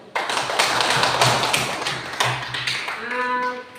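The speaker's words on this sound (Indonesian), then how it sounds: "mari kita tepuk tangan untuk kelompok 3" A small group in a classroom claps for a presenting student team, a close burst of quick, uneven hand claps that tapers off after a few seconds.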